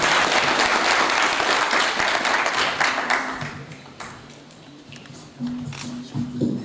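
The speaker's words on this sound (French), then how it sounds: "Est-ce que nous pouvons acclamer très fort pour cela vraiment?" An audience applauds loudly at a public event, dense clapping that fades after a few seconds as a voice begins speaking.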